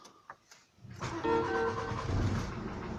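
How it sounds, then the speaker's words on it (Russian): Renault Velsatis 2.2 dCi diesel engine cranking and firing up, a few brief clicks giving way to a loud, steady idle rumble with a busy mechanical clatter on top. "Вот сначала вам завожу машину."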